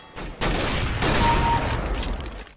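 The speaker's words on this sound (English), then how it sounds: "Known to players for its terrifying and distinctive rapport, the AWP puts the boom in boom headshot." AWP sniper rifle firing in a multiplayer video game: a few loud, booming shots close up, each a heavy broadband blast running into the next, with no talk.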